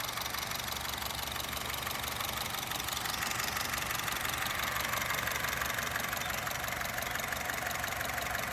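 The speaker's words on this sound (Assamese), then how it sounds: "মই এবাৰ ইঞ্জিনৰ চাউণ্ডটো শুনাই দি আছোঁ আপোনালোকক ষ্টাৰ্ট কৰি।" A Honda City VX petrol engine idles after starting, a steady mid-pitched hum with a fine rhythmic ticking, even and moderately quiet throughout with no talking.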